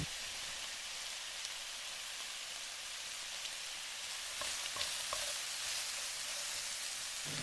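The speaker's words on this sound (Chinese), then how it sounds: "接着我们不停地翻炒" Chicken wings coated in dark soy sauce sizzle in a wok while being stir-fried, a steady broadband hiss with a few brief clinks and scrapes near the end.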